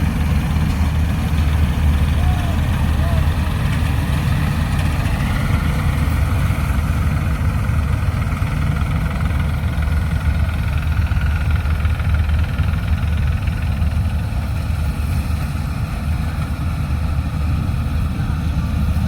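A tractor engine runs on a farm during harvest, a loud, steady low rumble that continues unbroken at an even idle-like pace throughout.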